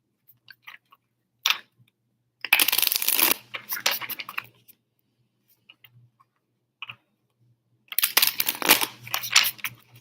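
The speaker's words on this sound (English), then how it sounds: "Let me shuffle this deck and we're going to tap into that." A tarot card deck shuffled in two bursts of crisp riffling and flicking, with soft card taps and handling clicks between them, close and fairly loud.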